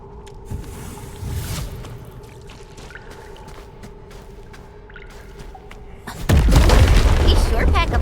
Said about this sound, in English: Those simple explosives there should be able to blast apart the rocks.